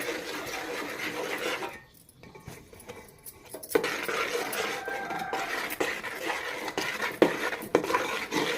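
Flour being stirred into hot sugar syrup with ghee for Sankranti ariselu, a steady close scraping and rubbing of a spoon against the pan, broken by a brief quieter pause before the stirring resumes.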